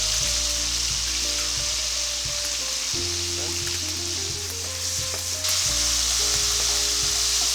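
Sausage sizzling and rendering with butter and parsley in a pan, a loud, steady hiss with a low droning hum beneath and a few stirring knocks, heard close throughout.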